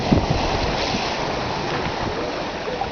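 A sailboat moving through ocean waves on a solo crossing from Panama toward the Marquesas gives a constant close rush of water and wind, steady and fairly loud, with no talking.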